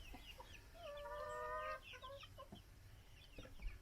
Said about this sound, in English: So these are some cream leg bar chicks.